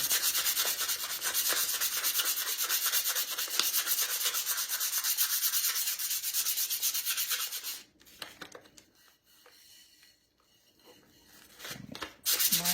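Brisk, rough rubbing of sandpaper across a decorative plate, fast back-and-forth strokes for several seconds, then a quieter pause with a few softer scrapes.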